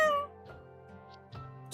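A pet cat meows in a few short, faint calls indoors in a quiet bedroom, with a brief louder hiss of noise at the end and no talk over it.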